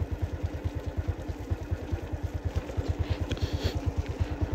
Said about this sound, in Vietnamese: chúng ta nghe cái tiếng nhịp nhịp của đất nó dính không? Đất đỏ, đất sét